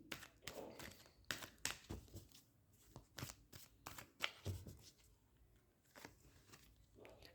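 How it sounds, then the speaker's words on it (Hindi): Tarot cards shuffled and drawn by hand: a run of quick, crisp riffling and snapping bursts, close and fairly quiet, with soft pauses between handfuls and no talking. "चलिए मैं इसमें से 2 कार्ड निकाल देती हूँ।"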